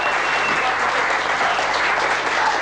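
A convention audience gives a magician a sustained, dense round of applause, loud and steady throughout with crowd noise mixed in.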